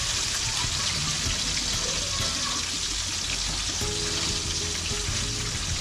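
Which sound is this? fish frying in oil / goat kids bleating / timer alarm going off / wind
fish frying in oil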